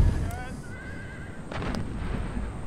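Musket and artillery fire in the Empire Total War video game: distant booming blasts and crackling volleys under a continuous battlefield rumble, with a horse whinny early on.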